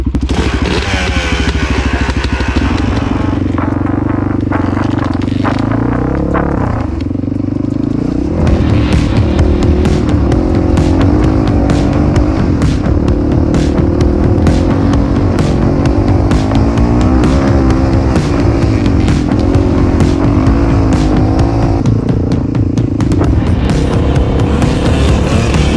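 A dirt bike with an EK engine ridden on a residential street, its loud engine droning steadily, then revving harder and climbing through gears as it pulls away, close and continuous, with no talk.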